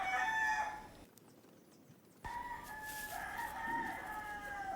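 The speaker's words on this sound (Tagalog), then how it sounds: "Pasensya nga po pala kayo dito sa panitilaok na manok" Rooster crowing near a farm field in the Philippines, a loud crow at the start, a short gap, then more crowing and clucking from nearby fowl.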